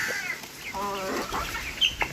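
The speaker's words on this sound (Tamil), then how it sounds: "பாம்புக்கு பயத்தில் ரெண்டு கினி கோழி மண்டி விட்டுருக்கோம்" Guinea fowl on a rural farm give a run of harsh, rapid calls, fairly close and steady over a faint outdoor background.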